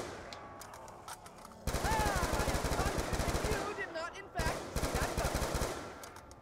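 Rapid automatic Galil rifle fire in Black Ops 2 Zombies, loud and sustained in dense bursts with a brief pause, mixed with game effects and a little talk.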